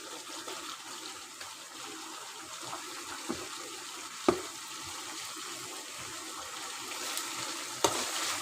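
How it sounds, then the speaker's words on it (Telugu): Chicken fries in a pan with salt and chilli powder, producing a low, even sizzle with a few soft clicks and pops, fairly faint throughout. "ఎర్రగా వేగిపోవాలి చికెన్ ఫ్రై కదా."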